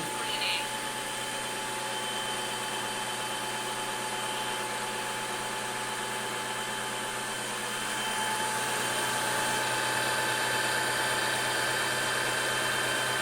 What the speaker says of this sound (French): on voit ici la brosse qui tourne, qui frotte sur le bord du socle et qui va s'auto-nettoyer